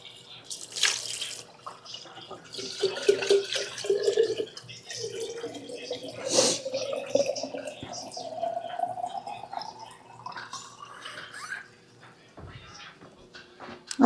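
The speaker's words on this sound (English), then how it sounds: "let me get us some water." Tap water runs from a kitchen faucet into a pot, a close splashing stream whose pitch rises steadily as the pot fills, starting with a few clunks and ending as the flow is shut off.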